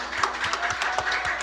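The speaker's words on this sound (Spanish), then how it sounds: "Denle un aplauso al Señor" A church congregation applauds the Lord in a dense, steady patter of many hands clapping at once, with a few sharper claps rising above the crowd throughout.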